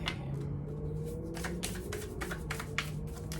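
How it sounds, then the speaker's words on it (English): Oracle cards being shuffled and pulled from the deck: a run of crisp, papery riffling bursts that grow busier and more rhythmic partway through, close by, with a soft steady hum underneath and no talking. "I'm going to pull you guys one of these oracle cards."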